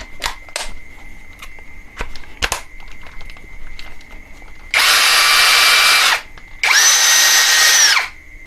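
A few sharp clicks, then an OSUKA OCD701-D1 compact 5-in-1 electric drill driver whirs in two steady high-pitched bursts, each lasting over a second, close and loud.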